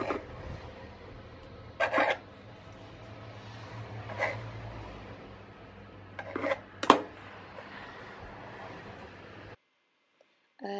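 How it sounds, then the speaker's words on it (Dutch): A knife slices a jam-filled roll cake with topping into pieces, with soft rubbing cuts and a few sharp clinks of the blade against a plate or board, quiet and intermittent before falling silent. "Probeer elk stukje wel even groot te snijden."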